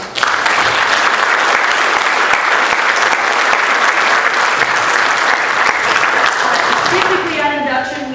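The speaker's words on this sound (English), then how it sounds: "So if you could give them a round of applause." An audience gives a round of applause to honor society seniors at a 2022 National Honor Society induction. Dense, steady clapping fills the room throughout, then thins near the end as a voice begins.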